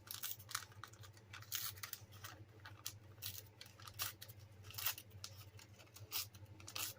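Book paper being torn by hand for vintage tags, a quiet series of short crisp rips and rustles that come in uneven bursts over a low steady hum, with no one speaking.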